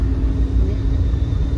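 A moving train in the Mumbai region rumbles with a steady, heavy low-pitched roar heard from inside a carriage, continuous and close, with no speech.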